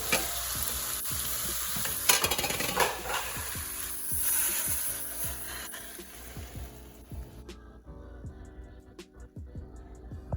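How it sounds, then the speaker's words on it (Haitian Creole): Water poured into a hot cooking pot for cornmeal with spinach hisses loudly in a rising sizzle, then settles into quieter bubbling and simmering with occasional clinks of the pot. "nous allons mettre de l'eau pour marier."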